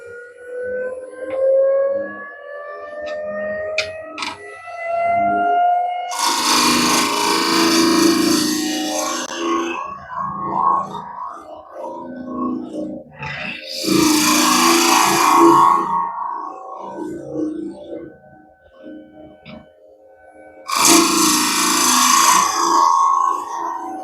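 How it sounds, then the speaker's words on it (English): A ball gouge cuts the end of a spinning zebrano wood bottle-opener handle flat on a lathe, with a whirring hum and three loud, sustained bursts of scraping cut, each several seconds long. "I will use ball gouge to make sure the end is nice and flat"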